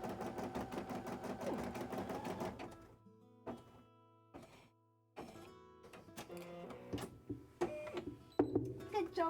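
A home sewing machine runs a steady mechanical chatter while stitching cosplay details, then breaks into short separate bursts with pauses between them. The sound is close but quiet.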